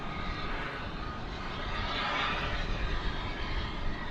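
A Dash 8 airplane taxis back to the hangar at DFW airport, making a broad steady engine roar at moderate distance with no talking.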